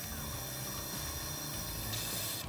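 An airbrush sprays Stynylrez primer from a large bottle, giving a continuous, fairly loud hiss that stays steady throughout, with faint mechanical ticking underneath and no talk.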